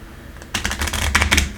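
A tarot deck is shuffled in the hands, producing a quick riffle of crisp, rapid clicking for about a second, close and fairly loud.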